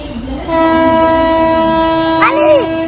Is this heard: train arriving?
yes